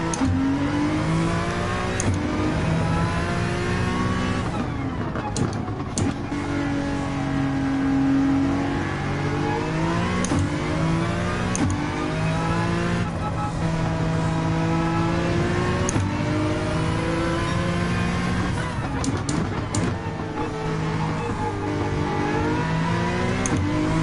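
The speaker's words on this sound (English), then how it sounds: "There's that noisy Mazda." Loud, continuous howl of a Mazda race car engine in Gran Turismo 7, rising and falling through repeated upshifts and downshifts over a steady racing drone, with no talking.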